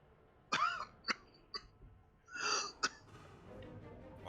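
A few separate coughs and a throat-clearing rasp come one after another, sharp and fairly close, with quiet gaps of room noise between them.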